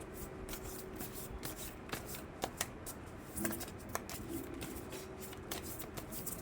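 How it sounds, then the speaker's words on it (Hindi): Oracle cards are shuffled and pulled from a deck, giving soft, close papery riffles and rustles with a few sharper flicks and taps, quiet and without talk. "अब मैं कार्ड्स पुल करूँगी"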